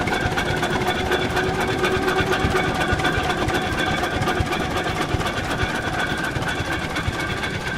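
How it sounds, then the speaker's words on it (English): Antique gas engine rolling past at an antique engine festival in Dublin, New Hampshire, with a loud, steady, close-up mechanical chugging that runs continuously through the whole stretch. "some sort of old engine drove past you"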